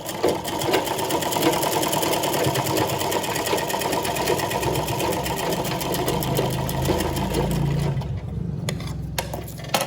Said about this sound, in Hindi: यहाँ पे मशीन से ही सिलाई लगा रही हूँ।